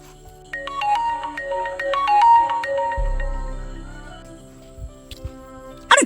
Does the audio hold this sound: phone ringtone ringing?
yes